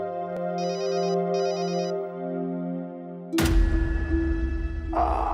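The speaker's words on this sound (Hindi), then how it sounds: "फोन आया है" A phone ringtone plays two short electronic bursts over a sustained tone, then cuts off abruptly into louder, noisy background sound.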